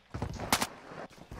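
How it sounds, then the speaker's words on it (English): Gunfire in a video game: a few quick bursts of shots, faint and somewhat distant, with a louder sharp crack in the middle and scattered smaller pops after it. "Shooting above my head."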